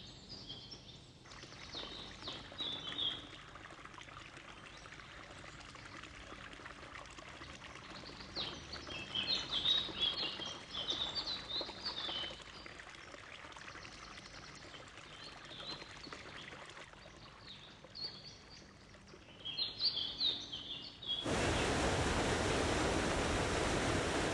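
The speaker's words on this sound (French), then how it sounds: "La cascade du cirque est considérée comme la plus haute d'Europe." The waterfall of the cirque in the Pyrenees, considered the highest in Europe, gives a steady distant rush of falling water with faint bird calls over it, and the roar grows louder and fuller near the end.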